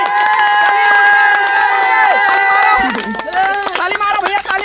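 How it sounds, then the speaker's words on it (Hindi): A crowd of boys clapping and cheering together, loud and close, with shouting voices mixed through the applause and speech over it. "लड़के लोग एक बार ताली मार दियो"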